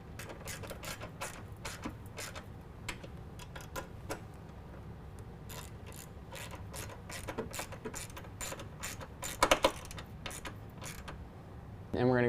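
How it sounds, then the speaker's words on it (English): A hand ratchet clicks in uneven bursts while tightening 10mm pinch weld bolts for running-board step brackets on a 2017 Dodge Ram 1500, close and moderately loud, with a few sharper metallic knocks near the end. "Next, we're going to tighten down our pinch weld bolts. That's going to be a 10mm on both sides."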